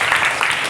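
Classmates in a classroom give two students a round of applause, a brief burst of dense, close clapping.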